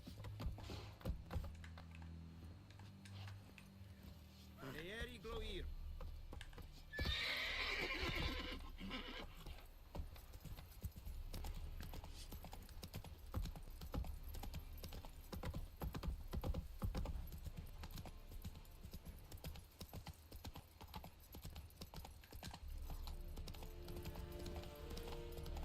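Horse hooves clip-clop at a gallop in The Witcher 3, with a whinny near the start, under a steady bed of game music and ambience.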